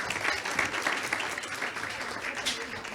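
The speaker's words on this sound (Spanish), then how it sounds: "Quiero darle un fuerte aplauso a Claudia Zapata" Audience applause at a talk on human papillomavirus, honoring the director of a cancer foundation: steady, moderately loud clapping that lasts throughout, with some voices mixed in.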